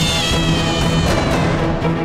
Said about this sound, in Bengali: বিড়াল রে